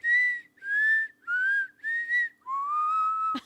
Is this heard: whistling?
yes